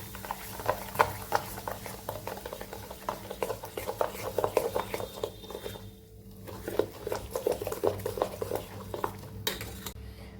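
A spoon clinks and scrapes rhythmically against a bowl while dhokla batter is stirred with Eno added, with a short pause midway before the quick stirring strokes resume.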